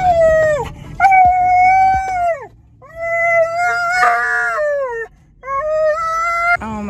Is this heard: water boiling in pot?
no